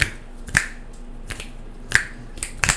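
About five sharp, crisp finger snaps, close and dry, spaced irregularly and standing alone in a quiet room.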